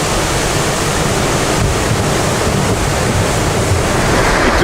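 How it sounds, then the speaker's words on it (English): Big ocean waves crash continuously at a fishing spot as a storm seems to begin, a loud, dense roar of surf and wind with no pause. "Big wave crashing, it's very big wave."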